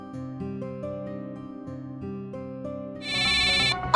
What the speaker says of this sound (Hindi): गुरप्रीत की वीडियो कॉल